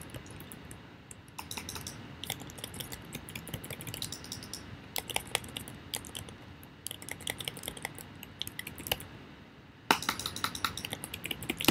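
Computer keyboard keys clattering in fast, irregular clusters during Brawlhalla play, close and fairly quiet, with denser flurries toward the end and no talking.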